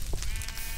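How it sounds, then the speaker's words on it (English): A single sheep bleats briefly and faintly in Minecraft over a low background hum, with no talking. "Oh, I hear a sheep."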